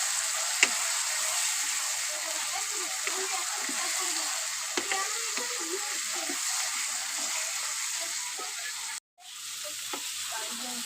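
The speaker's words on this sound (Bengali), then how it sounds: "এবার আমি কষাতে থাকবো এভাবে" Masala with chopped eggplant is sautéed in a pan, giving a steady, close sizzle with occasional scrapes and taps of a spatula. The sound cuts out briefly near the end, then resumes.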